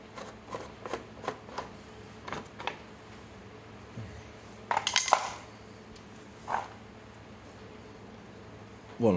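The plastic air filter cover on a Briggs & Stratton lawn mower engine is worked loose and lifted off, making a series of small clicks and taps and then a louder burst of plastic rattling and scraping at close range.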